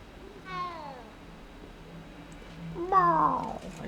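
Two clear meows from a cat in the game Hogwarts Legacy, one short and one longer and rising, with a quiet hum beneath.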